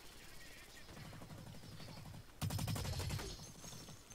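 Gunfire from the video game Blacklight Retribution, a steady rattling run of rapid shots that swells louder partway through, with no talking.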